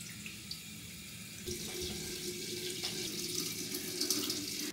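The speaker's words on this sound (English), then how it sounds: "get some hot water on the go" Hot water running steadily from a bathroom tap into a sink, a soft continuous splashing stream close by that grows slightly fuller partway through.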